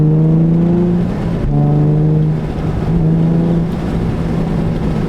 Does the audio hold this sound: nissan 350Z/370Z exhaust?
yes